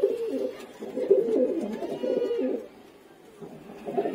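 Pigeons of a Madrasi breed coo softly in a low, rolling murmur, with several overlapping calls close by that pause briefly near the end before starting again.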